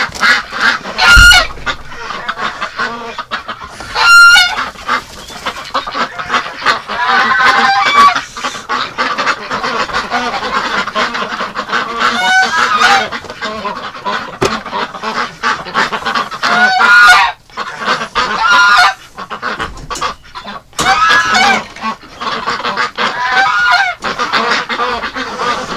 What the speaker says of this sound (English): Oh, there's still a whole bunch of ducks in here.